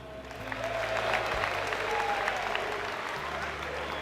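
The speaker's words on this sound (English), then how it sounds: "Give a cheer for Heart" A large esports tournament crowd applauds and cheers steadily for several seconds for the player Heart, a dense wash of clapping with scattered shouts, loud and sustained throughout.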